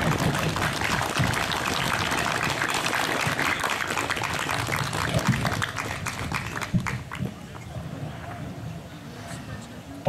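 An outdoor crowd at a Polish church fair and historical gathering claps for a veteran hero: dense applause for about six seconds, then thinning to scattered claps, with a voice speaking over it.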